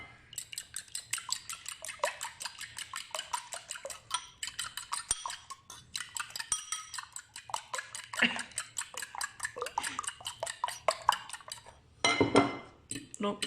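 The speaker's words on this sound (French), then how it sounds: "Avec une fourchette, on va bien mélanger le tout." Fork rapidly clinking and scraping in a bowl while mixing salmon with Boursin cheese, fast continuous metallic ticking with brief pauses and a louder scrape near the end.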